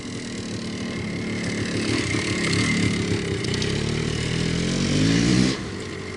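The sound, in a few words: 1983 Yamaha IT490K motorcycle riding on frozen ground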